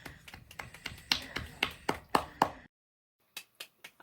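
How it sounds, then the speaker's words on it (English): A handful of podcast hosts clap in an uneven run of sharp, close hand claps, stop for a short silence, then add a few more scattered claps. "let's get a round of applause"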